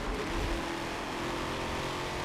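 Chevrolet Camaro drift car, a sim-racing game car, engine held hard against the redline, a steady loud buzzing rev with a rough low rumble, continuous and alone with no talk.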